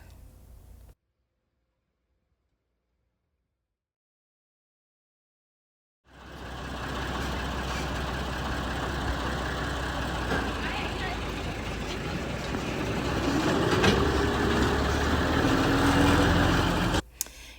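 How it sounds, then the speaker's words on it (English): An open-air tourist bus towed by a tractor rumbles along in Costa Rica, its engine a steady low drone with road noise that grows slightly louder, after a brief silent gap at the start. "You sit in this open air bus that's pulled by a tractor."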